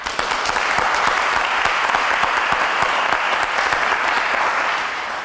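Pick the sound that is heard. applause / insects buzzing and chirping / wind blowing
applause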